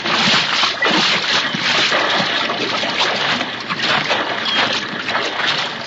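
A rowboat comes onto the shore as a radio drama effect, with a steady wash of splashing, sloshing water and scraping that goes on unbroken, with no speech.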